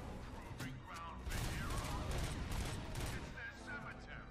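Grenade launcher and gunfire in the RoboCop: Rogue City video game, a dense continuous barrage of loud shots and blasts with mechanical clatter, swelling louder midway, with voices faintly mixed in.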